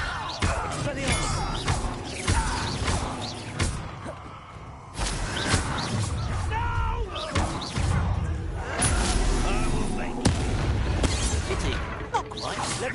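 The Expelliarmus spell is cast in Hogwarts Legacy combat, with repeated thuds, whooshes and crashes layered with a voice shouting spells.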